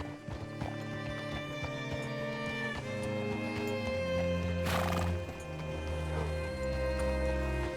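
Horse neighing with hooves clip-clopping in Red Dead Redemption 2, heard alone over sustained background music, a sharp whinny rising near the middle.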